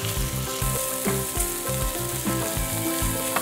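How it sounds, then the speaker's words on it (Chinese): Chicken, onion, mushrooms and fish cake stir-fried for yaki udon: a loud, steady sizzle with rhythmic scraping and stirring strokes in the pan, close up, with no speech. "再继续炒它一下。"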